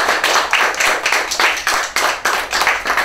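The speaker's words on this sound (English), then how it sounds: "Round of applause, come on." Loud, close applause at a graduation awards ceremony honoring a top student, with a strong rhythmic pulse of synchronized clapping beating roughly three times per second.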